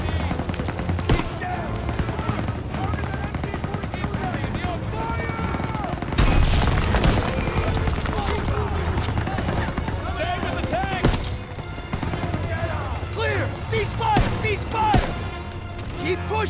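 An MG-42 machine gun and other gunfire in Call of Duty: WWII crackle in dense, continuous bursts with booms, under shouted voices throughout.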